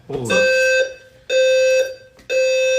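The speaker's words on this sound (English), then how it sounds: "There's a fire alarm." A building's fire alarm sounds three loud, close electronic tones, each a harsh, buzzy note about half a second to a second long, separated by short gaps.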